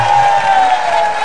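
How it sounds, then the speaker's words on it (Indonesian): Studio audience on an Indonesian television comedy talk show breaks into loud applause mixed with cheering, a brief dense burst close to the microphone. "Tepuk tangan sekali lagi untuk Warsini dan Warsiti."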